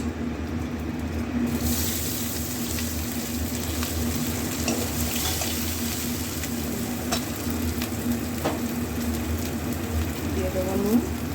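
Spice tempering with green chillies and grated ginger frying in hot oil: a loud, steady sizzle running throughout, close up, with occasional faint clinks and a voice in the background.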